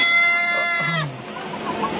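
Tiger and Fayoumi chickens on a poultry farm, one fairly close drawn-out call ending in a low sliding note, followed by quieter scattered clucking and barnyard noise.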